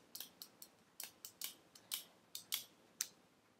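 A folding knife with a worn, failing liner lock is snapped open and shut close to the mic, giving a rapid series of about a dozen crisp, sharp metallic clicks in an uneven rhythm, with no voices.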